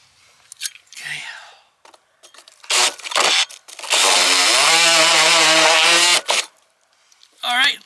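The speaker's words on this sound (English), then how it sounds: "Let me mark this and cut it and put it in and drill through" A power tool buzzes loudly for a couple of seconds while cutting and drilling during a hydrant install near vinyl siding, its pitch sagging under load, between shorter bursts and bits of quiet speech.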